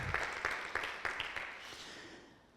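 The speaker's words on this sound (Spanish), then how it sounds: "Denle el aplauso al Rey" A congregation at a church discipleship service claps briefly in a fast, even rhythm that fades out within a couple of seconds, sounding moderately distant in a reverberant room.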